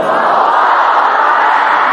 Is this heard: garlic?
no